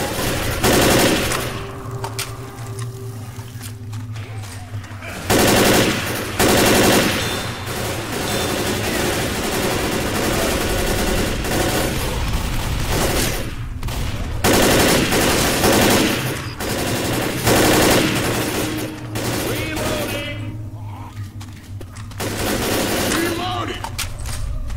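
Rapid bursts of automatic gunfire in the video game Left 4 Dead, loud and near, repeating in clusters across the whole stretch while players talk over the shooting.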